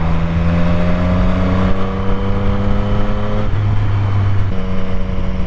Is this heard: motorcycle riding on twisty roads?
yes